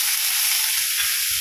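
Steady hot sizzle of washed pointed gourd, potato, pumpkin and ridge gourd hitting spiced oil in a pan, a bright continuous hiss with faint low stirring bumps.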